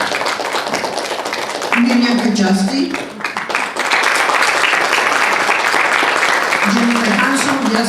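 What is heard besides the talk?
audience applause for the committee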